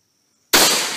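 A single sharp gunshot fires outdoors after near silence, a loud close crack with a short decaying tail.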